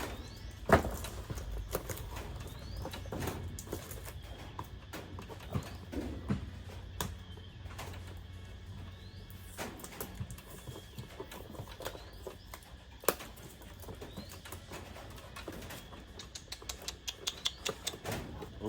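The cardboard box of a DYNOVA DV-220 handheld vacuum cleaner is handled and opened up close, with scattered sharp clicks, taps and light rustling at an irregular pace and no talking.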